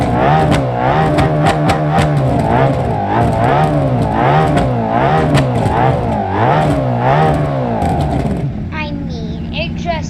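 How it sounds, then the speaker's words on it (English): Car engine in the BeamNG.drive video game revving hard in neutral: loud, close, rising and falling revs in quick waves for about eight seconds, then dropping to a rougher idle, with a voice talking over it. "And it just sounds good revving."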